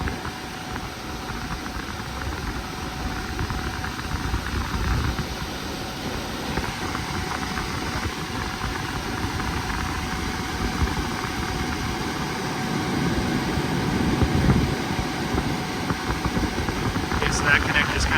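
A 1980s Lennox heat pump that keeps tripping its breakers runs steadily with a low droning hum and a fan-like whir, fairly close, while people talk over it.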